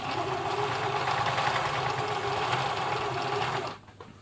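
A Husqvarna Viking Practica 4010 sewing machine stitches a seam with its tension set to 1, running as a steady, loud mechanical whir with rapid needle chatter for nearly four seconds before cutting off abruptly.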